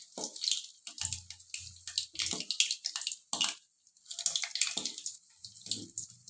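Moong dal fritters, pesara punugulu, sizzle as they fry in hot oil, a steady crackling hiss with bursts and short pauses throughout, fairly close.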